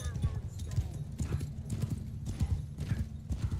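Horse hooves gallop at a steady, rapid clip-clop rhythm in the video game Mount and Blade II: Bannerlord, loud and close, with a voice talking over the hoofbeats.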